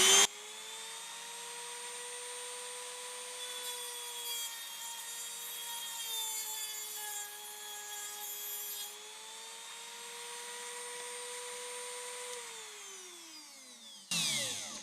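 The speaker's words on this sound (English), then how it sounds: "so we'll get the Dremel action going on." A Dremel rotary tool fitted with a cutting disc whines at high speed, a steady pitched tone that sags and rises slightly as it bites, then winds down near the end with a brief burst of noise; no talking.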